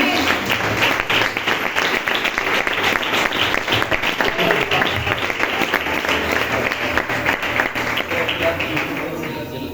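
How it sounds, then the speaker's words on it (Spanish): Sustained applause from a church congregation, dense and loud clapping filling the room without pause, with a few voices faintly mixed in. "Le damos un aplauso al Señor."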